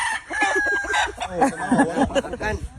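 A rooster crows at a game farm in Tabogon, Cebu, a loud close cock-a-doodle-doo followed by clucking and other fowl calls, with people talking nearby.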